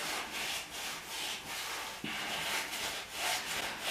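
Steady rasping scrub on a rust-coated surface, where rust has been coated over and left a rough texture, with repeated rubbing strokes that swell and fade in an even rhythm, close up with no voices.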